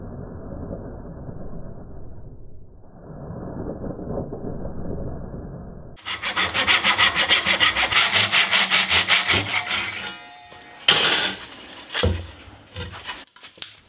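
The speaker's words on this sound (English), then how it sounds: "I took an old piece of walnut and using various saws," Old walnut being cut with various hand saws: first a softer rasping stretch, then a louder, close rhythmic run of back-and-forth strokes, followed by a few scattered scrapes and knocks.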